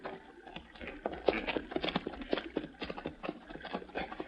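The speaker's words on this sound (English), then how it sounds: "Horse standing there." Horse hooves clip-clop in a steady, uneven rhythm of close, moderately loud clops as sound effects in a 1940s radio drama, with no talk over them.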